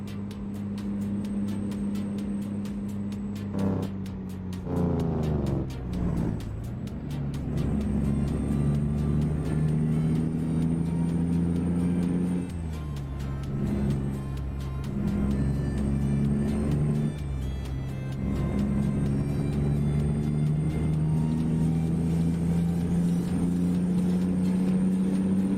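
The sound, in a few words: noisy truck engine driving in video game Euro Truck Simulator 2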